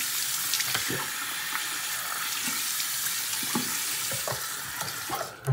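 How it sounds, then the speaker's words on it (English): Water streaming from a sink tap and splashing into cupped hands, a steady close hiss broken by scattered splashes and a clunk at the end, with no talking. "we just like turn on the water, grab our stuff, grab a handful of water"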